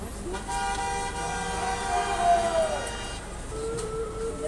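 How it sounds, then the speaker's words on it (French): Car horns honk at the Ablis motorway toll booth during a yellow vest protest, with overlapping long and short blasts sounding close and loud over crowd noise. "Klaxonnez les amis."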